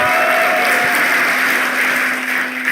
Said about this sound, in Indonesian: Profesor Sulistiawati Irianto, kita berikan tepuk tangan yang meriah.